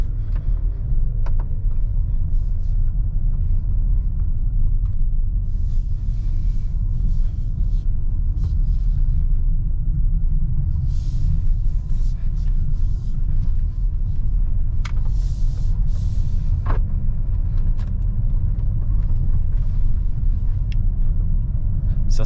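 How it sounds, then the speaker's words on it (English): A 2023 Mercedes-Benz GLA 35 AMG cruising on a rough road in comfort mode, with a heavy constant low cabin rumble of engine and tires, faint clicks and knocks over it, and no talk. "let's go ahead and take this Mercedes-Benz GLA 35 on a drive and see how it does"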